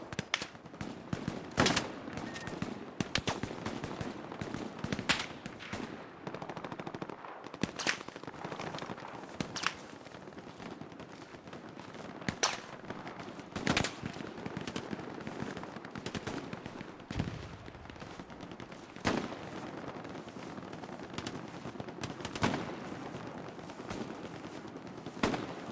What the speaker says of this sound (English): I can tell they're shooting at me or if they're just shooting past me